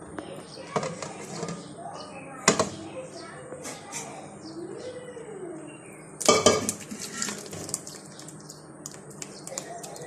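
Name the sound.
mixing ice cream ingredients in a bowl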